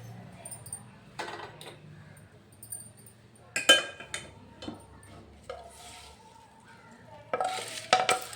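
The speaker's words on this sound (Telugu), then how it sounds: "ఇప్పుడు ఇందులో తాలింపు వేసుకుందాం మనం." Hot tempering stirred into curd for dahi vada, scattered spoon clinks and knocks against a bowl with a brief soft sizzle, in bursts separated by quiet gaps.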